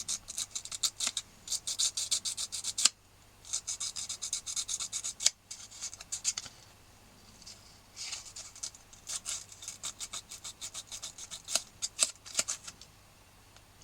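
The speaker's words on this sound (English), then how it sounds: "So I'm just going to sand that flat." A broken treble-side accordion key being sanded flat by hand, close rasping strokes in quick rhythmic bursts separated by short pauses.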